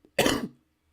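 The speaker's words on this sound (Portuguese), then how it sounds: "desculpa a tosse" A single harsh cough from someone who is still unwell, close and fairly loud, lasting about a third of a second, with near silence before and after.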